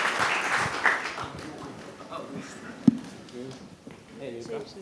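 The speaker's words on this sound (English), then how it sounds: "Applause, applause." Audience applause welcoming three speakers onto a stage at a design-systems talk in Paris, a moderate burst of clapping mixed with voices and shuffling, fading as a host talks over it.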